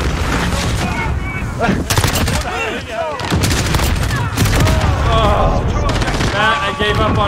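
Hip-fired guns crackling in a Modern Warfare match on the Shipment map, dense overlapping shots and bursts heard under excited voices talking loudly throughout.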